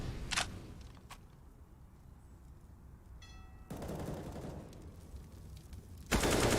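Gunfire rings out in a Counter-Strike match, with sharp shots and a burst fired through walls, mixed with game noise and a loud final crack, with no talking.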